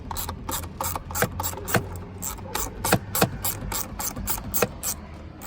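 A ratchet clicks in quick, regular bursts while Torx bolts are backed out of a 2008 Honda Civic Si steering wheel, close up and with no talk.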